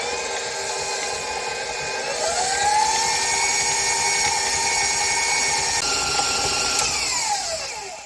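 An electric mixer whirs loudly and continuously while creaming butter and sugar for cookie dough, its motor pitch rising and shifting slightly as the beaters work, with no voices.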